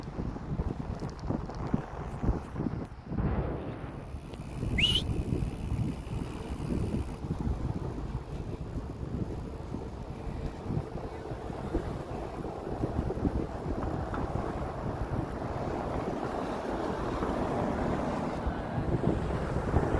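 Strong wind buffets the microphone with a constant low roar during a bike ride, while water sloshes faintly in the background.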